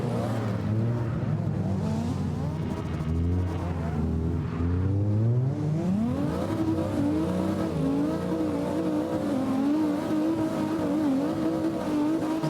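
A race car engine in a driving game revs up and down, its pitch sliding low then climbing and holding a steady strained whine, loud and close with faint tire noise and little else.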